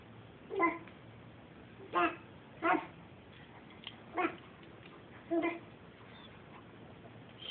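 A baby girl imitates a dog's bark with five short, breathy yelps spaced a second or so apart, faint and close in a quiet room, with no one else talking.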